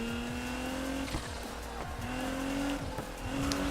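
A car drifting with the e-brake in Need For Speed Heat, its engine droning steadily as tires squeal in repeated long skids through corners, loud and alone.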